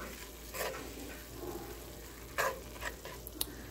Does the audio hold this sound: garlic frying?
yes